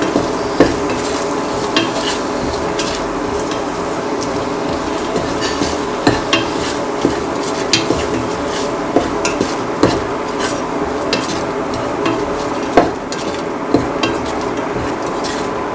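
A spoon stirs an eggplant and coconut milk stew in a pan, giving soft scraping and gentle simmering with a series of light clinks of utensil against metal, steady and close, without talk.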